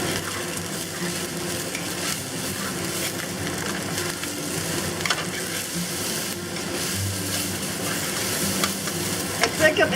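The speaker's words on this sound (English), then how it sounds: "spread out the rice and let it warm up. And just let this sit for about 30 seconds. And we'll toss it again." Soy sauce fried rice with bacon being stir-fried and tossed in a hot pan, a steady dense sizzle running throughout, with scraping and clattering of the spatula that grows sharper and louder near the end; no talking.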